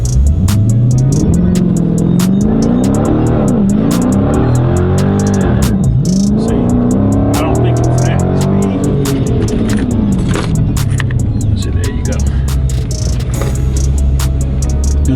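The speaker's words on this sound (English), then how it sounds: "in launch control, I don't know what the best speed to launch these is at" A Dodge Charger Scat Pack accelerates hard from a launch-control start, its engine note sweeping up and down through repeated gear changes, loud and close under constant wind and road roar, with no talking.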